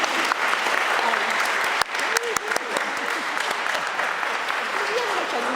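Sustained applause from a large audience at a general assembly opening ceremony in Avignon City Hall, steady clapping filling the room with a few sharper claps standing out, some voices mixed in.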